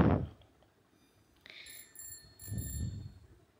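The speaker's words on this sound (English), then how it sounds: "when you press the bottom of the cycle bell, it produce sound" A bicycle bell rings twice in quick bright metallic dings, close and fairly quiet, with a soft thump at the start and near silence between the rings.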